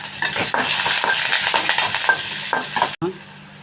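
Garlic and fennel seeds fry in a pan for a Tamil-style potato fry. A spoon stirs them in quick, repeated scraping strokes over a close, steady sizzle before a brief cut to a quieter hiss.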